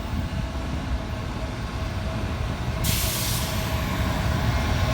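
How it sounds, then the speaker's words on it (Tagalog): A long cargo train rolls past with a steady low rumble and hiss of wheels on rails, fairly close, joined midway by a brief burst of higher hiss. "ito pang pasero na train, pang cargo to."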